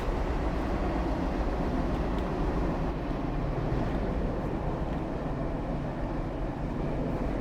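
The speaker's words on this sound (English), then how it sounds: "We'll start braking a bit now, I think, because I'm not really quite sure how fast this train's going to brake." Metro train in the video game Metro Simulator braking, a steady dense rumble of wheels and running gear holding at an even loudness throughout, with no talk over it.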